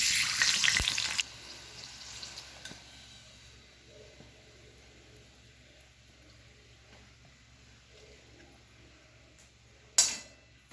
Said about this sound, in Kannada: ನಾವು 3-4 ಚಿಲ್ಲೀಸ್ನ ನಾವು ಇದನ್ನು ಎಣ್ಣೆಯಲ್ಲಿ ಫ್ರೈ ಮಾಡ್ಕೊಳ್ಳೋಣಂತೆ